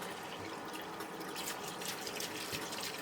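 Water from a tap pours steadily into the tub of a rice cleaner, a constant close hiss and splash with no pauses.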